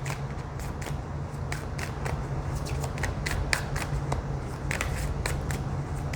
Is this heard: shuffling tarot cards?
yes